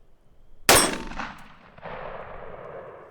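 A single sharp rifle shot of Sergeant Major Munition .223 ammunition fired while sighting in a rifle at close range, cracking loudly once and then ringing out in a fading echo.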